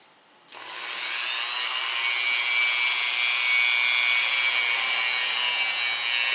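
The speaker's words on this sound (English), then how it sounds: "just take some 2000 grit sandpaper and rub it" Steady, continuous abrasive rubbing of 2000 grit sandpaper against the metal sear of a Smith & Wesson M&P pistol, starting abruptly after a brief quiet moment and holding a bright, even hiss close up without any talk.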